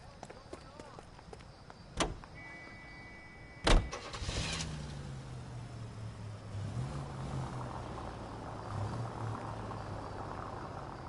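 A car in the video game L.A. Noire gives a couple of sharp door clunks, then its engine starts and settles into a low, steady idle hum that shifts pitch a little, with people talking over it.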